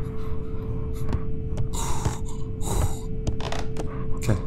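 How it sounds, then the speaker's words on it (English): Heavy, mechanical breathing like a respirator, Darth Vader–style, in an indie horror video game called Contemp, rasping in and out in slow repeated cycles, loud and close over a steady low hum. "I can hear Darth Vader"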